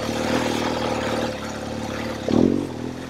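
A BMW R1200GS Adventure motorcycle rides a rough unmaintained Class VI road in Rumney, New Hampshire, its engine droning steadily up close with wind rumble and rattling, then a brief louder surge of revving.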